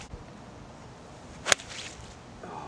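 A golf shot with a pitching wedge on a Myrtle Beach course: one sharp, crisp club strike against faint outdoor wind noise, followed by a brief fading swish.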